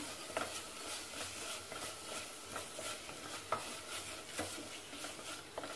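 A spoon scrapes and stirs chicken with ginger-garlic paste in a pan with soft sizzling underneath, irregular clinks and scrapes at close range, no talking.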